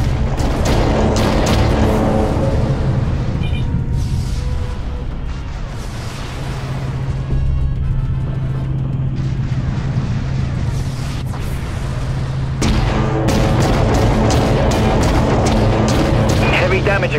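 Heavy spaceship weapons fire from a capital ship in the space combat game Dreadnought, loud booming blasts repeating through the whole stretch over a steady low engine drone, with voices talking underneath.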